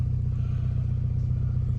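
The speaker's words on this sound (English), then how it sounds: "Okay, quick video of start up and idling on this SAAB 900 Carlsson." A 1991 SAAB 900 Carlsson with the Turbo 16 engine idles smoothly, giving a steady, even low rumble throughout, with no voices.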